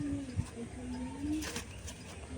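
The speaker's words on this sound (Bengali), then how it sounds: "খুবই সুন্দর পায়রা। এটা নর পায়রা।" A male pigeon at a loft gives soft, low cooing calls in a quiet setting, with some faint talk in the background.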